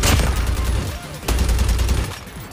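Bursts of machine gun fire from a Call of Duty battle royale match, two loud sustained volleys with a short gap between them, dense and close.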